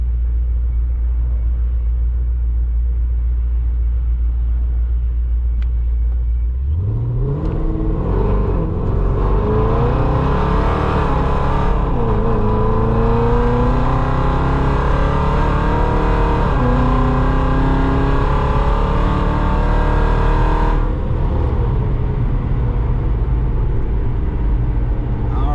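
ProCharged Dodge Challenger with a 5.7 engine idles with a deep rumble, then launches hard and accelerates through several gears, the supercharged engine rising in pitch with each pull before backing off near the end, loud and close throughout.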